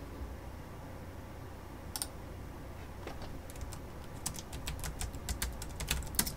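Keystrokes on a Mac computer keyboard as a password is entered, soft scattered clicks that grow into a quicker, denser run of taps toward the end, close and fairly quiet with no talking.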